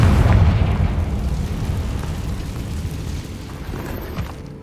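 A Confringo spell explosion in Hogwarts Legacy booms loudly at the start, then its deep rumble slowly decays into a long, fading roar.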